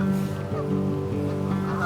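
Geese on a platform honk loudly and close by in dense, overlapping nasal calls that run through the whole stretch with no pause.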